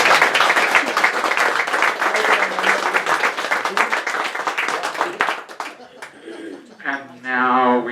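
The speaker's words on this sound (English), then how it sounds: "Could you please give Mary a round of applause?" Audience applause for Mary, a dense patter of clapping through the first five seconds, then thinning and breaking off into scattered claps and a little talk.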